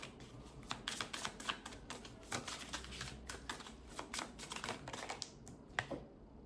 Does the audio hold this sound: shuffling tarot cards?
yes